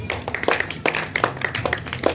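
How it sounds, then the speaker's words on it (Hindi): Audience clapping to welcome a guest, a former wrestler, at a Ganesh festival children's event in Hatod: scattered, uneven claps from a crowd, fairly close, with no one speaking. "आप भी तालियों के साथ में स्वागत कीजिए"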